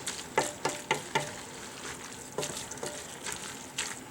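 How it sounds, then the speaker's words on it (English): Ground turkey browns in a pot with a soft, steady sizzle, broken by a series of scraping, knocking spoon strokes in an uneven rhythm as it is stirred, heard close and fairly quiet, with no talking. "I'm still stirring because I don't want any part of it to burn at the bottom."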